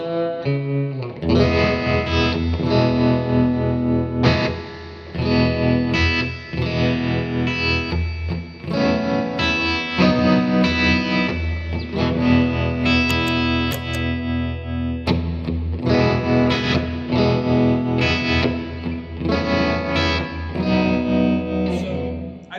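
Electric guitar run through a Mojo Hand FX RVT pedal with the gain raised, producing loud, distorted chords and riffs that play steadily for the whole stretch, with brief gaps between phrases.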